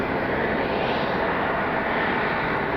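Embraer E175 regional jet airliner in new livery at Cleveland Hopkins International Airport, a steady, loud broadband engine roar that holds constant throughout without any talk.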